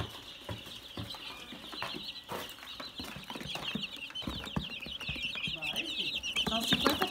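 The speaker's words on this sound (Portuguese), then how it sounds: "São 50 pintinhos." Fifty free-range chicks, seven days old, peep in a dense, continuous chorus of high, rapid chirps. The flock sounds close and lively, and the peeping grows slightly louder and busier toward the end.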